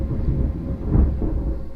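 Thunder follows a nearby lightning flash as a deep, continuous rumble that swells near the middle of the short stretch, over a background of falling rain.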